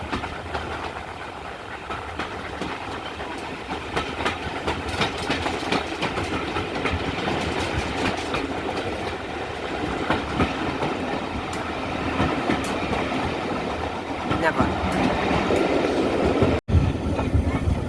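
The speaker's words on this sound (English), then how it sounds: "5239 Goliath on the Paignton Dartmouth Steam Railway, about to pass through Chuston." Steam locomotive 5239 Goliath working the Paignton and Dartmouth Steam Railway near Churston, a steady continuous rumble and clatter of the train running close by for the whole stretch, with a brief voice at one point.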